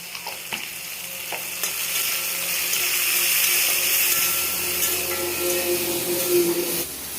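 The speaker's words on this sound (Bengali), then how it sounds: "ভালো করে ভাজার জন্য পেঁয়াজটা আমি দিয়ে দিচ্ছি লবণ" Constant crackling sizzle of onions frying in a pan, loud and close, with a few light clinks of stirring.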